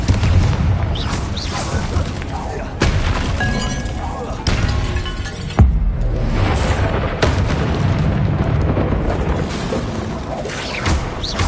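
Confringo spell explosions in a video game, a string of sharp booming blasts with shattering debris, several distinct hits over a loud continuous rumble, with a voice calling out spells.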